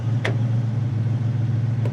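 A 1970 Ford Mustang Mach 1 V8 idles steadily and smoothly, a deep continuous low rumble close by with a faint rhythmic pulse and no talk.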